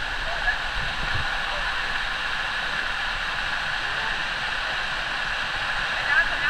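Steady broadband rush of a small waterfall, Lakkom Falls near Munnar, Kerala, continuous and fairly close, with no clear breaks.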